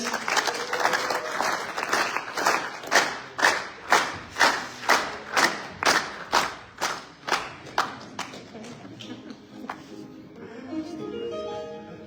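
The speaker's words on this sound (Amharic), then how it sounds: "በውስጥ ያለው ጸጋ በማክበር አጨብጭቡለት" A church congregation clapping in unison, a steady rhythmic series of about fifteen loud claps that speeds up slightly, then breaks into scattered applause and crowd noise with voices.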